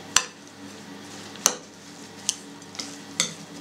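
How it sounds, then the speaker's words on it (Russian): Falafel mixture with egg and breadcrumbs being stirred in a bowl: a few sharp, spaced utensil clicks and scrapes over a quiet, steady background. "Сейчас предварительно перемешаем все."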